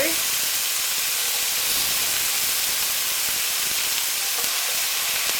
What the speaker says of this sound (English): And basically fry them up, fry your onion up.